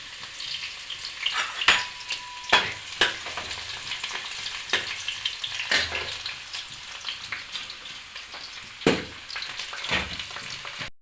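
Garlic sizzling and frying in very hot oil in a home kitchen pan for a Punjabi kadhi with tamarind, a steady crackling hiss broken by sharp spattering pops and stirring clatter, with no talking.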